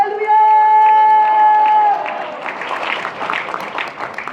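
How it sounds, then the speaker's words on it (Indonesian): Church congregation clapping and cheering after a sustained sung or called note, the applause rising into a lively crowd wash with scattered whoops and voices. "Yang percaya kasih tepuk tangan"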